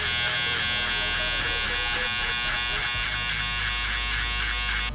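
Electric hair clippers buzz steadily and close up while being tapped down gently against the head during a skin fade haircut, a constant high-pitched whine with faint pulsing.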